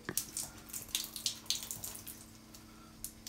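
Running water rinsing soap off a cat during a bath, an irregular series of close splashes and gushes over a low steady hum, with no talk.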